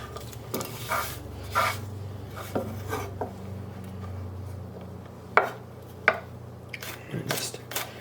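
A knife slices through garlic cloves on a kitchen board, making scattered soft taps and sharper knocks at an irregular rhythm, close by over a faint background hum.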